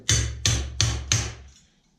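Four sharp, evenly spaced hammer blows ring out on metal at a blacksmith's workbench, each strike leaving a short metallic ring before the last fades into quiet.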